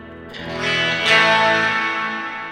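Electric guitar played through a Positive Grid Bias FX 2 preset on an iPad: a single strummed chord rings out, heavily processed with distortion, chorus and echo, sustaining and slowly fading.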